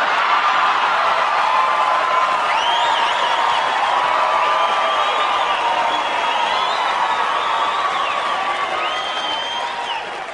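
A comedy show audience clapping and laughing loudly and continuously, a dense crowd roar of applause with cheering and whistle-like whoops, sustained at full volume before easing slightly at the end.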